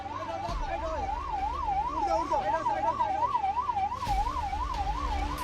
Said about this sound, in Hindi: अलर्ट वाला सायरन यहाँ भी बजा है।